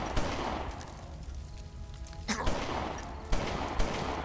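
Gunfire from the mafia strategy game Omerta: City of Gangsters, a fairly loud burst of shots with a few sharper cracks spaced through the stretch, playing alone with no voices.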